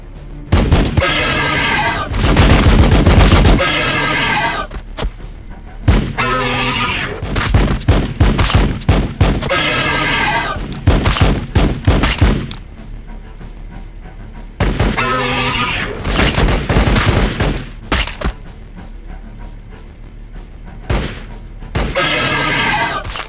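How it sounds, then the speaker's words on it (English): Gunfire crackles in Warhammer 40,000: Battlesector, loud bursts and rapid volleys in repeated clusters, mixed with booms and other battle noise, with pauses between the barrages. "Taking fire!"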